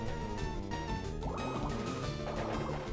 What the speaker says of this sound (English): Blast it off the face of the earth with water.